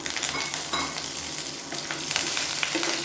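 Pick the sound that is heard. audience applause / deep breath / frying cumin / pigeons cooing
frying cumin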